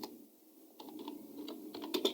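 Typing on a computer keyboard, a quiet run of light key clicks that grows a little busier and louder toward the end, heard alone.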